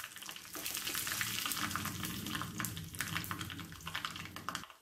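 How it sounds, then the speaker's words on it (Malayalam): Mustard seeds, broken dried red chillies and curry leaves crackle in hot oil for a tempering, a dense, busy sizzle with scattered sharp pops and a low steady hum underneath, heard close with no talking. "നമ്മുടെ മുളകൊന്ന് മുരിഞ്ഞു വരട്ടെ."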